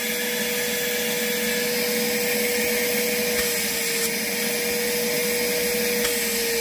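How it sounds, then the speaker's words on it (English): Vacuum cleaner fitted with a homemade adapter sucks metal shavings out of drilled holes in a Detroit DD15 diesel engine, a loud steady whine droning close and unbroken throughout. "he made a deal to go on his vacuum, make sure we get the holes good and clean"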